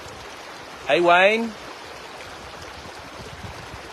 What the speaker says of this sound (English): I'll just show you the lovely river.